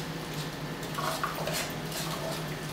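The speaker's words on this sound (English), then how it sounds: "I'm just gonna go ahead and stir that up" Garlic is stirred in a pan, a close metallic scrape and clink of utensil against cookware over a steady background hiss, brief and continuous without talk.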